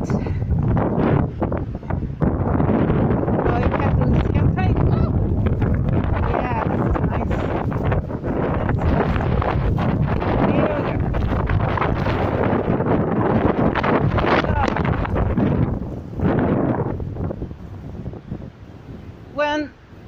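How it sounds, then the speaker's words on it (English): Strong wind buffets the microphone in loud, roaring gusts that run almost without a break, and a voice speaks faintly underneath. "I don't know how much you can hear over the wind"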